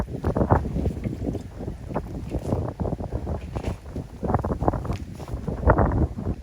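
Strong outdoor wind gusts buffet a garden and batter the microphone in loud rumbling waves, continuous and close throughout.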